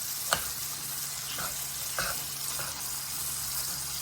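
Ground taco meat browns in a pan with a steady, soft sizzle and hiss, broken by a few sharp clicks from stirring, close by with no talking.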